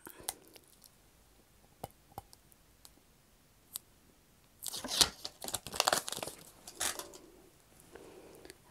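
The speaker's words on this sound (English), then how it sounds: "Peel off all the tape." Tape is peeled off a custom-made mug at close range, a burst of tearing and crinkling lasting a few seconds after several isolated soft clicks.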